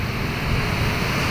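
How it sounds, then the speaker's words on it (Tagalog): Big ocean waves at sea make a loud, steady rush mixed with wind buffeting the microphone. "Ayan ang update natin sa ating dagat. Lalaki ng alon."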